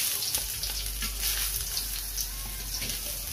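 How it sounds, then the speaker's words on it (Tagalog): Chopped ginger sizzles in a hot pan at the start of a chicken curry, a steady, close, crackling fry that holds at an even level throughout with no talking. "So magigisa na tayo. Unahin natin yung ating luya."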